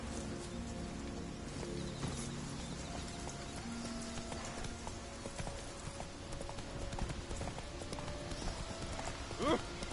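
Roach the horse trots along in Witcher 3, a steady rhythmic clip-clop of hooves close by and moderately loud, with a brief whinny near the end and faint background ambience.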